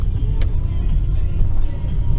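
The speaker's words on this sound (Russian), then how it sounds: "Машина идет как бы довольно-таки напряжно. Кое-где буксовать начинает даже." A BMW car labors through deep, untouched snow, its engine droning loud and close with low rumbling strain, wheels starting to slip, and a brief sharp noise early on.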